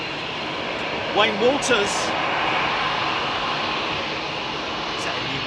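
Jet engines roar steadily at London Heathrow Airport, a loud, broad, continuous rumble filling the whole span while someone talks briefly over it.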